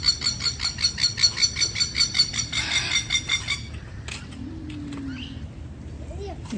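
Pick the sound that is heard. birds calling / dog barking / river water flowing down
birds calling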